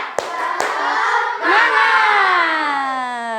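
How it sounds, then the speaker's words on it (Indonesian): Schoolchildren in a fourth-grade classroom do the 'tepuk semangat' clapping chant: two sharp claps, then a loud group shout of voices sustained and falling in pitch over several seconds. "Biar lebih semangat, kita tepuk semangat dulu"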